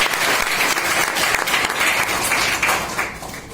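Audience at a business seminar bursting into loud, dense applause, continuous close clapping that stays strong and eases slightly toward the end.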